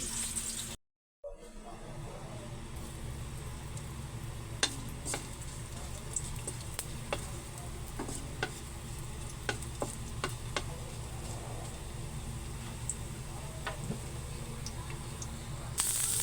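A steady, faint sizzle of chicken frying in a pan, with occasional small ticks and pops throughout.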